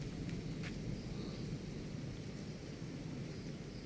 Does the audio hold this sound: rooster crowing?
no